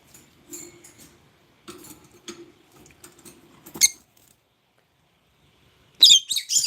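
Small bird chirps and squeaks come in short scattered bursts, fairly close, with a brighter flurry of chirping near the end after a quiet gap.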